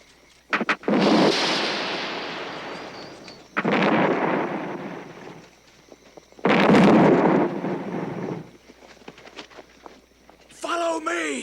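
A signal gun fires in a period war film, giving several loud booming blasts with rumbling tails spread across the scene, separated by short gaps and followed by a brief shout.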